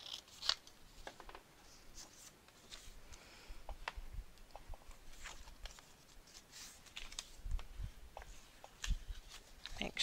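Scissors snip through cardstock to miter the corners of a craft piece, giving quiet, irregular cutting clicks and crisp snaps spread across the clip, with soft rustling in between.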